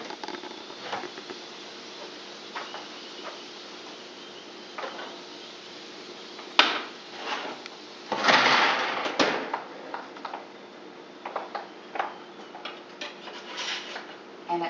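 Roasted potatoes flipped on a sprayed baking pan, heard as soft scattered taps, scrapes and clinks of utensil on metal, with a louder cluster of scraping and clattering near the middle, close and unaccompanied by talk.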